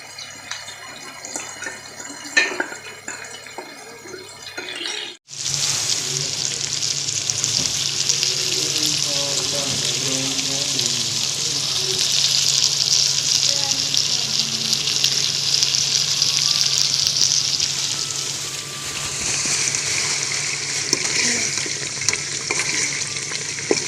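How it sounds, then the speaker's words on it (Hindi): Chicken frying in plenty of oil in a kadai, a loud steady sizzle that starts abruptly after a few seconds of quiet and continues close-up with light stirring. "गाइस, हमारा चिकन फ्राई हो चुका है।"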